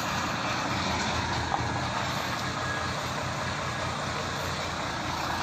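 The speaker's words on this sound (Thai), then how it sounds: "นี่ครับรถสวยครับผมรถหกล้อครับ" A six-wheel Mitsubishi truck with a 6M61 engine fitted with a big turbo kit runs steadily nearby, a continuous broadband engine drone and rumble holding even throughout.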